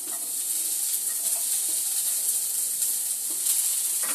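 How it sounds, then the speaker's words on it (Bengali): Chopped onions frying in hot oil, a steady bright sizzle and hiss that holds evenly throughout with faint scraping of stirring. "প্রথমে দিয়ে দেবো পেঁয়াজ কুচিগুলো"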